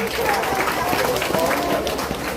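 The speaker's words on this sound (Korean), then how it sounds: "다시 한번 큰 박수를 부탁드리겠습니다" An outdoor audience at a city parking-tower opening ceremony claps after a singer's celebratory stage performance, a dense steady wash of applause with a faint voice running underneath.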